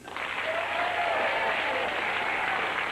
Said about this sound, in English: A big round of applause again